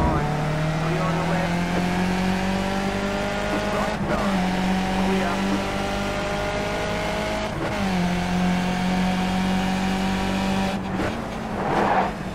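A Skip Barber race car engine drones at high revs in iRacing at Spa, held steady and dropping sharply at two gear shifts. Someone speaks briefly near the end.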